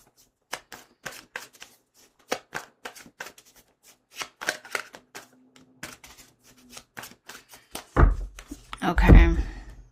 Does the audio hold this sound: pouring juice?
no